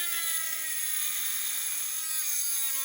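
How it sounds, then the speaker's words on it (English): A Dremel rotary tool with a small cutoff wheel cuts around the front edge of a car body panel, giving a continuous high-pitched whine. The pitch sags slightly under load, close and steady throughout. "I'm going to take my Dremel tool with a little cutoff wheel, and I'm going to cut around the front edge"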